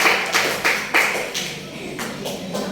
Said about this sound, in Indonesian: beri tepuk tangan untuk dua tim yang paling